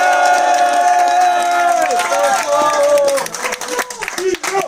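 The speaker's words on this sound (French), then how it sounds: "Vous pouvez faire un tonnerre d'applaudissements pour Nino" A crowd at a school rap contest cheers and claps loudly for the winner, with whooping voices rising over the applause before it breaks up into scattered claps.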